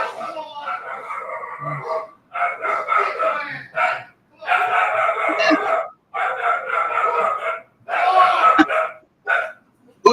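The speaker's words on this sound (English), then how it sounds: "Who started barking first?" Dogs bark in repeated bursts of rapid barks, several seconds each with short pauses between, fairly close and loud, with a bit of talk in the background.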